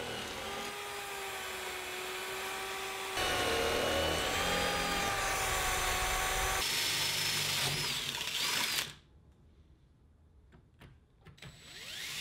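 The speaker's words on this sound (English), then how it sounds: "The angles then get holed at regular intervals, which I then transfer through the angle to the aluminum." A power drill bores holes through aluminium angle in a workshop, a loud whining spin that shifts pitch as the bit cuts, then stops abruptly, leaving faint clicks and handling noises.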